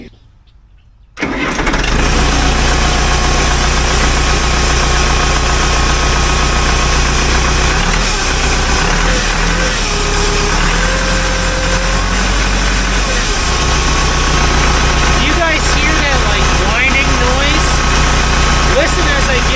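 A backhoe's diesel engine cranks and fires after a moment of silence, then settles into a loud, steady rumbling idle with a faint whine running through it.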